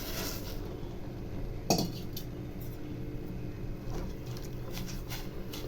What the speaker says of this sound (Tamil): இப்போ மரவள்ளி கிழங்கு இதில் போட்டுடலாம்.